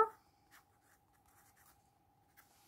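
A fine-tip pen writes on paper, giving faint, soft scratchy strokes in short bursts over a quiet room with a steady low hum.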